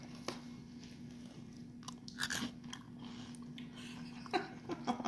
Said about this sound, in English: Y'all like to hear the crunching and all that.